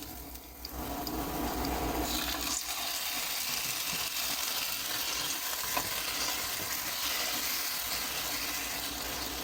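Marinated beef sizzles in a pan with onion and garlic, a steady, moderately loud frying hiss with occasional stirring scrapes and no talking.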